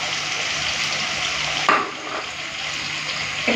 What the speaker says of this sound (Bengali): তারপরে ভালো করে কষে নেবো।